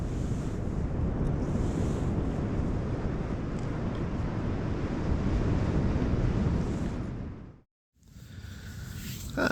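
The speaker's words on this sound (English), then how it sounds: "Not much wind, there's a bit of a breeze." A light breeze blows across a beach, heard as a steady, loud rush of wind buffeting the microphone with surf mixed in. It cuts out briefly near the end and then resumes.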